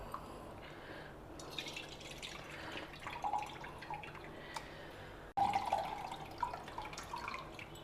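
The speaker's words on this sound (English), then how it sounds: "So just add only about 2 cups of water." Water is poured over tamarind in a kitchen to make an extract, giving soft drips and splashes, quiet and close, with no talking.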